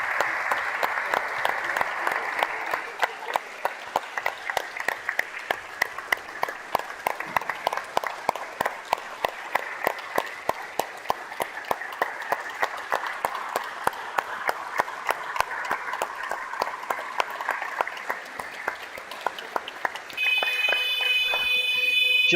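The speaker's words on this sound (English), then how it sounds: "we honour him with a 24-second applause." A crowd at a basketball Pro-Am final gives a sustained tribute applause for about twenty seconds, the clapping steady and closely packed. A sharp electronic buzzer-like tone cuts in right at the end.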